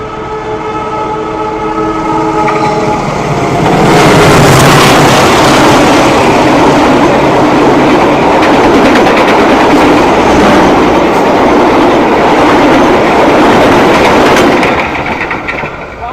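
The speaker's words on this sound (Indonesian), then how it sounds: "kereta api Sri Tanjung tiba di stasiun Purwosari dan langsung disambut kereta api Bangunkarta yang melintas langsung" The Bangunkarta passenger train passing through Purwosari station, Indonesia: a horn sounds first, then a loud close rushing roar with rhythmic wheel clatter that holds steady before easing off.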